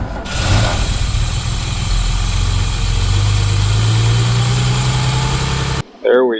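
1961 Mercedes-Benz 220Sb W111 engine, long unused, cranking and firing up, then settling into a steady, loud close idle before cutting off abruptly with a brief voice at the end.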